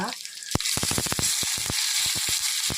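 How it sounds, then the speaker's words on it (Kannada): Mustard seeds and crushed garlic tempering in hot oil, a steady close sizzle broken by a quick run of sharp crackling pops as the seeds burst. "ಇದಕ್ಕೆ ಈಗ ಒಗ್ಗರಣೆ ಕೊಡ್ತೇನೆ. ನಾನೀಗ ಒಗ್ಗರಣೆಗೆ ಸಾಸಿವೆ,"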